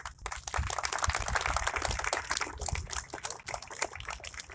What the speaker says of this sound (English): We'd like to give you guys a round of applause as well.